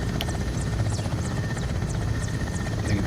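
A Mil Mi-17 V-5 helicopter taxies in Microsoft Flight Simulator, its rotor giving a steady rhythmic chopping over a low engine drone at moderate loudness.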